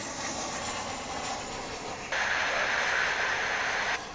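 A Delta airliner takes off at DFW airport with a broad, steady jet roar, loud and sustained, whose hissing rush swells partway through as engine power builds, heard alone without talk.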